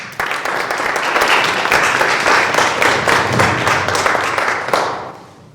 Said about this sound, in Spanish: A quien recibimos también, por favor, con un fuerte aplauso.